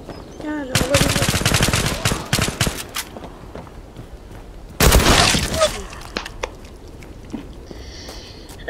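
Rapid bursts of M468 rifle fire crack out in the video game Zula, two loud dense volleys with sharp repeated shots and trailing echoes, followed by scattered quieter shots and clinks.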